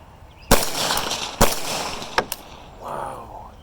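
Subsonic Brown Bear 7.62x39 rifle rounds with 196-grain bullets fired outdoors at a dirt bank 100 yards off, giving sharp cracks with faint impact thuds; two main shots close together, then smaller snaps, before a voice speaks.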